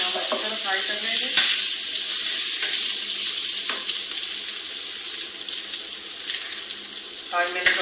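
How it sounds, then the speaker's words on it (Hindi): Beef masala fries in a pan with a loud, steady close sizzle and occasional stirring scrapes, while a voice is faintly audible at times. "तो हम अच्छी तरह फ्राई कर लेंगे।"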